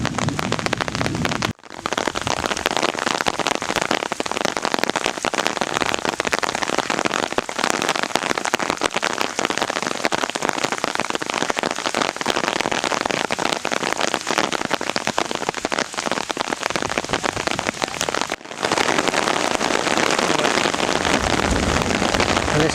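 Heavy rain pours steadily at the ancient site of Olympia in Greece, a loud, dense, continuous hiss of drops with two brief breaks and no voices.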